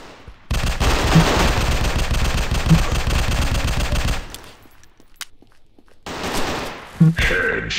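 Rapid automatic gunfire from an online shooting video game, loud, continuous bursts for about four seconds, then a short pause and another sharp burst with single shots.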